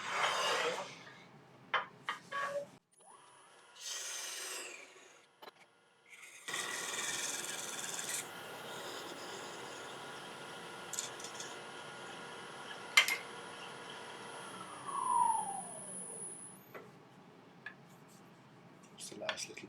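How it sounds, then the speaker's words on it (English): A wood lathe parts off an Irish walnut egg cup platter, a steady whirring rub of tool on spinning wood with scraping bursts, clicks and a brief squeal near the end, close and moderately loud. "So now we can get it parted off."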